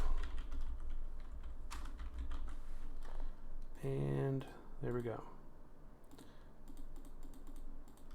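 Soft, scattered keyboard typing clicks under a voice speaking briefly, over low background hum.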